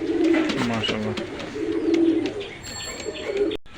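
Pakistani high-flying pigeons coo repeatedly in low, rolling calls close by, with a few higher chirps and some background noise.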